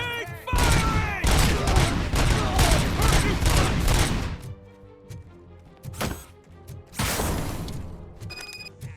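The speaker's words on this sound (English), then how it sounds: "Keep firing!" Rapid bursts of automatic gunfire in the Robocop: Rogue City video game crackle loudly for several seconds, go quiet, then break out again in shorter volleys.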